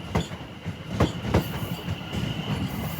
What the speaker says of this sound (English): This is a Class 730 with West Midlands Railway.